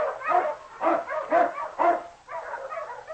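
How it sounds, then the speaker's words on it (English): An Eskimo lead dog in an old-time radio drama of the snowy Yukon gives a quick run of about five loud, close barks, then a longer excited yelping bark. "The Wonder Dog King, swiftest and strongest of Eskimo lead dogs, blazes the trail through storm and snow for Sergeant Preston"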